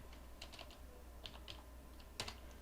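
Fingers type on a computer keyboard in quick bursts of clicky keystrokes while entering a web address at a command prompt, close and moderately quiet with short pauses between groups of keys.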